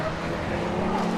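Porsche race car passing at Zandvoort circuit during a BRSCC Porsche Championship race, a short, rising engine drone heard from a distance.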